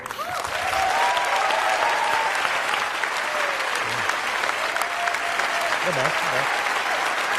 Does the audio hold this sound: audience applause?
yes